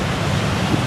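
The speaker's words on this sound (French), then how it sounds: "belles vagues" Ocean waves break on the beach at Étang-Salé at dusk, a dense continuous surf roar, loud and near, with wind mixed in.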